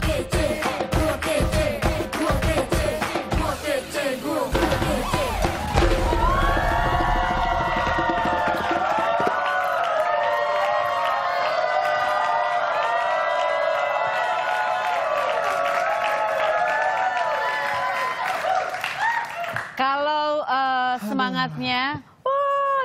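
Audience clapping and cheering at a show, a loud, dense crowd sound layered with music and voices over most of the stretch, cutting to tonal sounds near the end.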